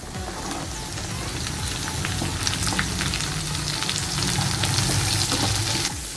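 Small shallots sizzle and crackle steadily in hot oil in a pan for a Kerala-style mutton roast, a dense, continuous frying hiss heard up close without talk.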